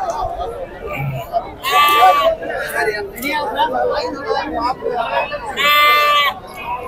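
Rams bleat loudly at the Pebbair livestock market, in two prominent close calls several seconds apart, heard over a steady background of crowd chatter and talking.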